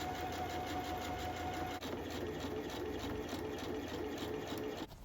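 A sewing machine runs steadily, top stitching a flag seam with folded seam allowances on fabric for a traditional Canadian flag, a fast even mechanical whir that stops abruptly near the end.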